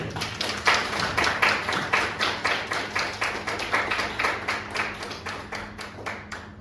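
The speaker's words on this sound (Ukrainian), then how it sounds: "Оплески всім учасникам прем'єр-ліги." Steady rhythmic clapping from an audience applauding premier league participants at a Kharkiv event, a close, even run of hand claps lasting several seconds with no voices over it.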